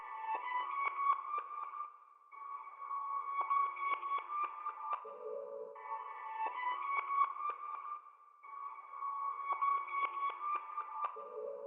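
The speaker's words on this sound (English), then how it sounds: "This is what the reversed guitar sounds like." Reversed guitar sample dropped a full octave, heard as smeared, swelling phrases that rise into soft repeating chords with brief dips in between, faint and unaccompanied by speech.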